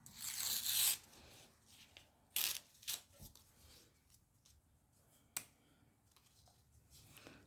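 A piece of paper being torn off the bottom of a sheet, a loud ripping burst at the start, then a few sharper tearing and rustling bursts, close by with no talking.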